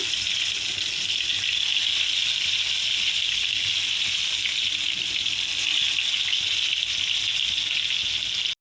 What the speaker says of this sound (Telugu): నూనె కాగాక ఇవి గుత్తొంకాయలు అనేది అందులో వేసేసుకొని వేపుకుంటామేనండి